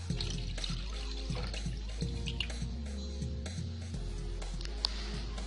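Green tea water being poured in a continuous close stream with drips and light splashing, set under steady background music.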